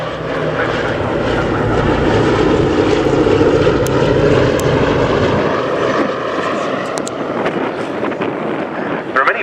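A Boeing B-17 Flying Fortress, Sally B, flies a display at the Scampton Airshow with smoke trailing to simulate two damaged engines; its piston propeller engines make a loud, sustained drone that eases slightly toward the end.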